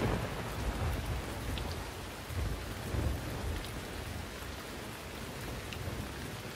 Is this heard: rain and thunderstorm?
yes